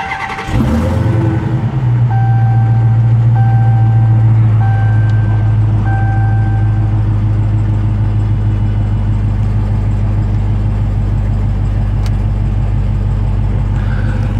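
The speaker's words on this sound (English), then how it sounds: "All you have to do is put your foot on the brake and hit this red button to start the engine up." A 2018 Dodge Charger SRT Hellcat's 6.2-liter Hemi V8 cranks and fires with a loud burst, then settles into a deep, steady idle rumble that continues alone, with a few short electronic chimes early on.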